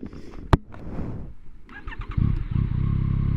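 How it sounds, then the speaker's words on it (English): A 2023 Yamaha MT-09 SP motorcycle engine fires up with a sharp click, then settles into a deep, throaty idle that grows louder and steadier toward the end. "the exhaust and engine on this bike sound phenomenal, and they kind of have a deep, kind of a nice deep growl"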